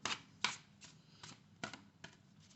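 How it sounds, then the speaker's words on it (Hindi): Tarot cards are handled and laid out one by one, with soft, close flicks and slaps at an uneven rhythm, roughly six distinct card snaps over a few seconds in a quiet room, with no one talking. "मैं एक बार कंप्लीट कार्ड्स लगा लेती हूँ सेट"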